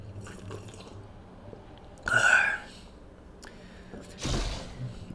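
A person takes two short sips of water close to the microphone, a couple of seconds apart, against a quiet room background.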